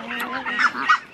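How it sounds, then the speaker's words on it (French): Small ducks passing by in a breeding setup, with goose-like honking calls close up. The honks overlap one another in quick succession across a short burst. "Là il y a les plus petits canards qui passent"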